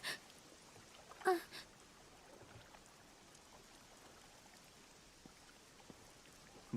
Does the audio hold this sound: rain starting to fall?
yes